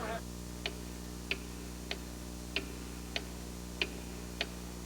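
A clock ticks steadily, about seven evenly spaced crisp ticks, sharp and fairly close over a constant low hum.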